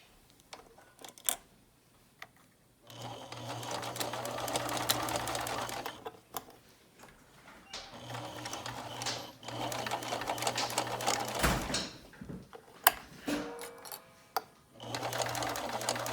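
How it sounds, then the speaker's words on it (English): A sewing machine stitches down the pleats of a fabric face mask in two long bursts of steady whirring, broken by short pauses and small clicks and handling noises, close by with no talk. "So you're just gonna sew along down."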